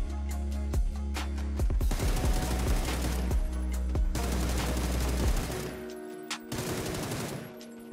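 A Beryl assault rifle sprays full-auto in PUBG, fired in long continuous bursts of rapid, evenly spaced cracks. The shots are loud and close, with short pauses between strings and a low steady drone under them.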